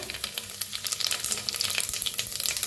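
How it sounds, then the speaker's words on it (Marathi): Rapid crackling and popping of mustard and cumin seeds spluttering in hot oil, dense irregular bursts throughout with no voices. "जिरं मोहरी चांगली तडतडू द्या"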